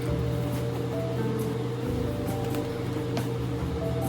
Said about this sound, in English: I'm sorry for the annoying fan noise in my video.